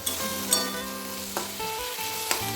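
Vegetables, including boiled potatoes and beans, fry in a pan with turmeric and spices, making a continuous close sizzle with a few sharp clacks of stirring scattered through.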